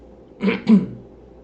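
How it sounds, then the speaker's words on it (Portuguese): A man coughs twice in quick succession, two short rough bursts close to the mic, then quiet room tone. "estou tossindo um pouco"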